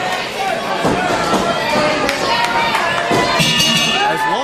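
Wrestling crowd at a legends night show chanting "Pinky" for Lawler, a dense loud roar of many voices with rhythmic shouted bursts throughout, no clear single speaker.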